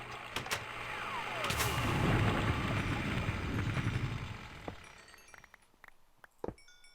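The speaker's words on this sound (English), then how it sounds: "It sounds like some more of those robo snipers are around." Robo snipers in a custom Minecraft modpack fire a muffled run of booming shots with a rumbling swell in the middle, then scattered clicks and sharp pops as it settles. The sound is fairly quiet.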